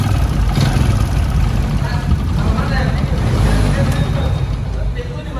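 A noisy, worn Suzuki Shogun motorcycle engine runs steadily up close, a dense, rattling drone with constant broadband clatter and no pauses.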